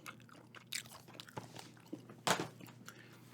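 Gum chewed close to the microphone with soft wet smacks, squishes and occasional sharper clicks in an irregular rhythm, quiet and intimate with no talking.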